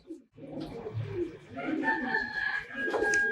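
Racing pigeons coo in low, throaty repeated calls, fairly close, at a loft, with a person talking and other birds chirping in the background.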